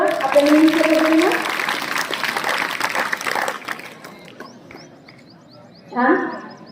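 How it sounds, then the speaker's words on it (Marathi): Audience clapping for students at a school annual results and prize ceremony, a broad patter of applause that fades away after about four seconds, with a voice over the start. "या सर्व विद्यार्थ्यांसाठी एकदा जोरदार टाळ्या वाजवत बघा"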